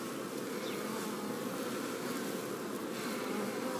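Honeybees in an open top bar hive hum and buzz in a soft, steady drone, with a few individual bees flitting past nearby during an inspection.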